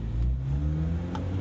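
A race-tuned Honda Civic Type R with a VTEC engine holds a steady, droning rev from inside the cabin, a smooth continuous engine note that rises slightly with no talking.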